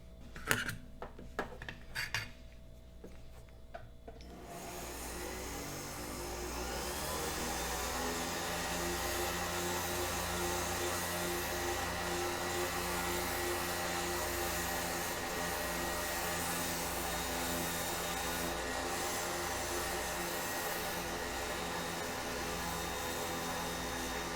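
Green buffing wheel polishing wire jewelry; after a few seconds of scattered handling noises, the motor spins up into a steady, close whirring drone that continues evenly for about twenty seconds.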